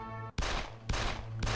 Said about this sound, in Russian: Вот мы уже и начали с вами стрельбу.